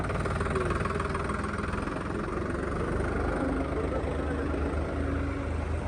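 A tractor engine idles steadily at slow rpm at a farm equipment expo, a constant low rumbling drone close by with faint voices underneath.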